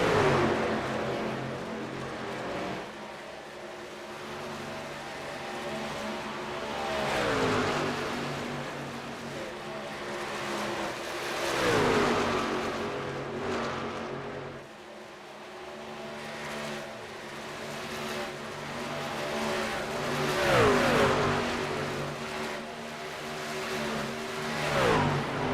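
Speed trucks racing on a track, a continuous engine roar swelling and falling as they pass, with repeated gear shifts and revving, loud and steady throughout.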